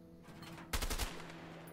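A quick burst of M14 rifle fire in the A Way Out video game, several rapid close shots packed together over about a third of a second, then fading.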